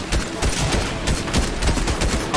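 Rapid bursts of gunfire in a multiplayer role-play video game, loud and dense throughout with repeated sharp shot transients over a low rumble.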